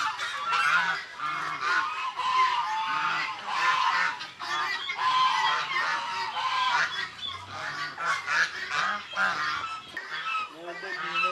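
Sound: geese honking on a Kerala farm

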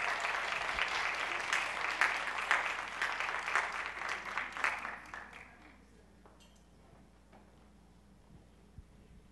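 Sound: applause

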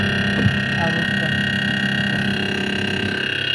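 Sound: refrigerator freezer combo humming and vibrating

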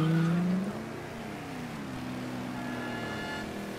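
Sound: car driving in video game Mafia 3

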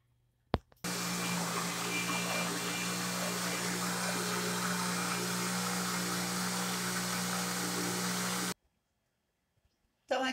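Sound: blender blending pumpkin soup

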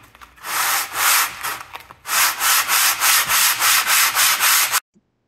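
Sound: hand sanding wood with coarse sandpaper

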